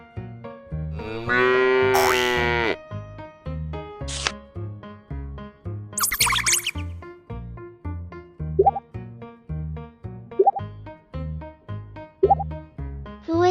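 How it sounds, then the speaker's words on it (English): A cartoon cow moos in a stretched, tonal call over a bouncy plucked music loop, followed by springy boings and pops while the music continues. "Cow."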